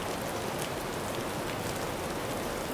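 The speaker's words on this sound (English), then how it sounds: "A gentle rain falls on stone paths" Gentle rain falls steadily on stone paths near Park Hyatt Niseko Hanazono, a soft continuous hiss of drops with no other sounds.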